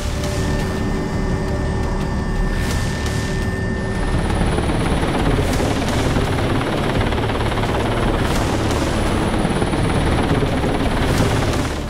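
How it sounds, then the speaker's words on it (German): Loud, close rotor thump and turbine roar fill the cabin of an 18-metre Cougar military helicopter carrying Swiss grenadier soldiers, a steady, continuous din with a faint high whine, and no voices audible over it. "Im 18 Meter langen Cougar-Helikopter treffen die Soldaten die letzten Vorbereitungen."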